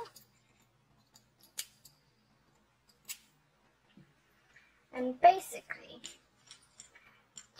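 Scissors snip off excess old and new yarn from a crocheted double rattle toy, a few quiet isolated cuts early on, then a denser cluster of snips and rustling handling noises near the end.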